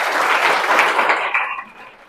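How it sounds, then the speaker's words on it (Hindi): Audience applause at a school talk for board exam students, a dense burst of clapping that fades out after about two seconds. "अपने लिए ताली बजाओ।"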